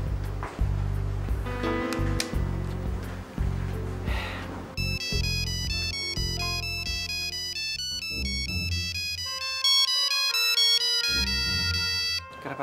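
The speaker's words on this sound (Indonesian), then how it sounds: "Kenapa nggak diangkat lagi Alicia?" A phone ringtone plays on and on, a repeating electronic melody with bright beeping tones that keeps going without being answered.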